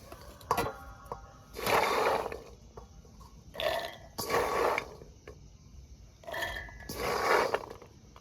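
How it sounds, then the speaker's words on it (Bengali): Fresh green peas ground in a mixer grinder in a home kitchen, heard as three loud whirring bursts of roughly a second each, separated by short pauses with faint clicks and rattles. "এরপরে মটরটাকে আমি বেটে নেবো"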